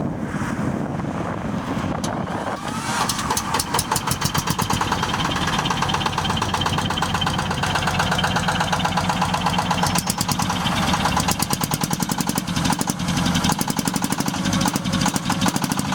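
A Thai-built Jumbo Rambo farm truck, a mid-size model with a tipping dump bed, idles with a steady rhythmic diesel chug close to the microphone, then its engine is revved and eased back, with wind buffeting throughout.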